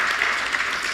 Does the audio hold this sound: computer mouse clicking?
no